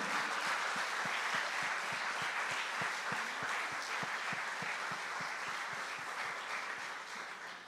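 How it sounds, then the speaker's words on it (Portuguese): A church congregation applauds, a broad, steady roar of many hands clapping with a regular beat of rhythmic claps running through it, sustained for several seconds before easing off slightly. "Você pode aplaudir ao Senhor?"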